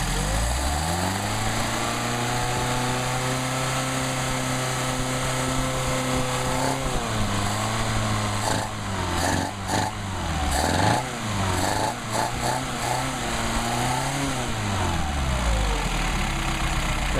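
A Mercedes 190SL engine with Solex carburetors idles steadily, blips up in a few quick revs, then settles back to a smooth, close, even idle.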